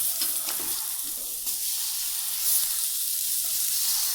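Tilapia (jalebi fish) fries in hot oil in a village-style home kitchen, turned over to cook the other side, giving a steady, close sizzle and crackle with a brief scrape as it is flipped.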